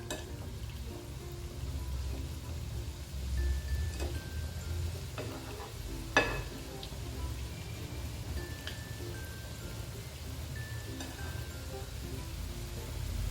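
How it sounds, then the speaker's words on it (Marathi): Boondi batter dropping through a sieve into hot oil, a steady soft sizzle with faint crackles and one sharper pop, continuing evenly throughout with no talking. "आपलं तेल चांगलं तापलेलं आहे चाळणी घेतली अशा पद्धतीने थोडी वरती धरलेली चाळणी त्यात बॅटर टाकू आपण"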